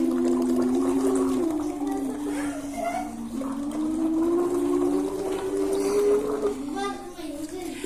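Water bubbles hard in a glass, a continuous churning, gurgling blow into the liquid that sounds close and fairly loud, with a slight wavering tone throughout.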